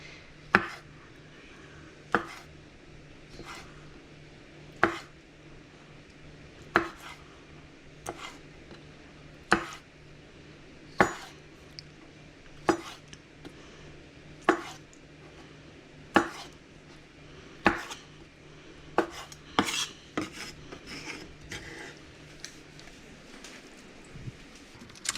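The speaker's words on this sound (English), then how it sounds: "I'll slice some of them long ways," Knife strokes on a cutting board through eggplant and summer squash, a steady series of crisp, close chops spaced about every second or two, each a sharp thud with a short ring, over faint room hum and no talk.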